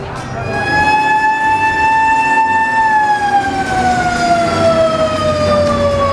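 A Jember regency fire engine siren sounds as the truck arrives at a burning warehouse: a loud, continuous wailing tone that holds steady, then slowly falls in pitch over rumbling background noise, with no pause.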